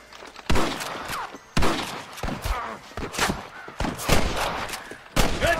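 Gunfire from snipers in the Western video game Red Dead Redemption comes as a series of sharp, loud shots spaced irregularly over a few seconds, with echoing tails and faint background activity.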